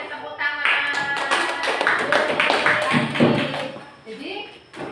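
A classroom of students claps hands together during a lesson, a dense, even patter of many hands under a teacher's voice, fading out near the end.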